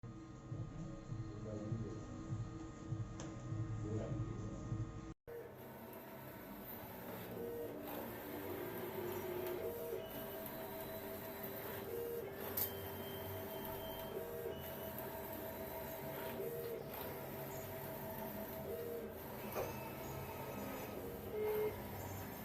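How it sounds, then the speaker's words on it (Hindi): Large-format printer running in a print shop in Vadodara, turning out a club banner: a steady mechanical drone with repeated carriage movements and faint periodic beeps, continuous and fairly close throughout. "ये अभी हमारा वीजीएफ क्लब का बैनर प्रिंट हो रहा है"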